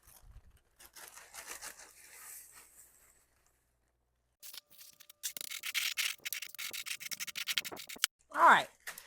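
Cornflakes crushed finer for a baked chicken coating, with crinkly rubbing and crunching bursts close up, a quieter stretch of scraping before a busier second half and a brief swish at the end.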